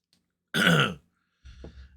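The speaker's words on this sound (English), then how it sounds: "let me just clear my throat again." A single close throat clearing, a short rough burst lasting about half a second, followed after a pause by a quieter low rumbling sound.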